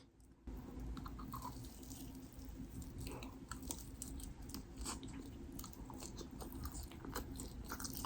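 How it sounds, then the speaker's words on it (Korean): Close chewing and biting on a sweet potato, soft repeated mouth sounds with faint crunches over a steady background hum, no talking. "피자를 먹었으니까 피자 꼬다리인 고구마를 먹겠습니다"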